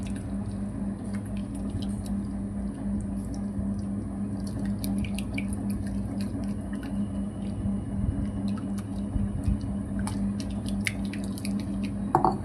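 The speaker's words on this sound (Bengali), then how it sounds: "বাটিটাকে পুরো মাখিয়ে নিতে হবে টক দইটাকে ভালো করে" Sour yogurt smeared around a bowl by hand, soft wet squishing and light dripping sounds repeating irregularly over a faint steady hum, close and fairly quiet.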